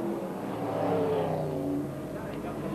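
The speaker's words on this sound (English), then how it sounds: "Rosati goes around Cox there and gets up to fourth spot" Race car engines drone in a circuit race with a white Datsun among the field, one car overtaking another. A continuous, fairly loud roar rises and falls slightly under a commentator's talk.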